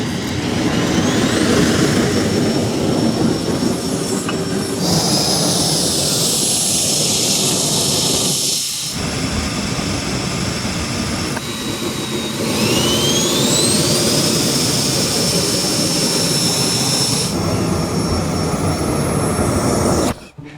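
A homemade electric jet engine on a skateboard during a thrust test: a loud, steady roar with a high whine that rises in pitch, running continuously for about twenty seconds and dropping briefly partway through.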